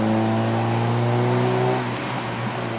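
A 2015 Honda City GM6 1.5 with a five-speed manual gearbox: its engine hums loud and steady, holding a rising note, then eases off near the end as the revs drop.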